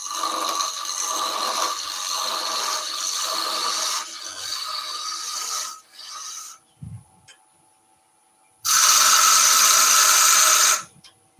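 A 12 mm skew chisel roughs a spinning wood blank down to a cylinder on a lathe, making loud rasping, scraping bursts: one long stretch, a short pause with faint knocks, then a second strong burst.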